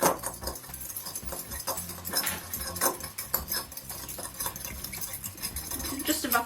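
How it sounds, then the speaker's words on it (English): Quick irregular clinks and scrapes of a fork whisking egg in a bowl for fish cakes in a home kitchen, close and fairly soft with busy rhythmic tapping and a few louder knocks. "grab a little fork or something out and just whisk that so it's all mixed together with the egg"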